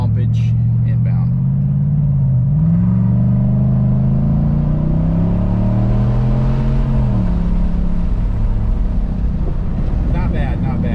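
Chevrolet Silverado with a muffler-delete exhaust, a loud, deep rumbling idle that rises and falls through two revs, close and continuous, with wind buffeting the microphone.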